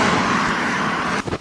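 A lorry passes close by on a road, a loud steady rush of engine and tyre noise that holds throughout before dropping away abruptly at the end.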